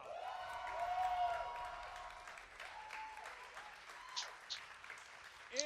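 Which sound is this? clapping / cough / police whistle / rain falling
clapping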